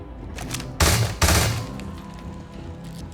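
Two heavy bursts of gunfire from a big pistol in Starfield ring out close and loud, then fade into quieter reverberation and faint background.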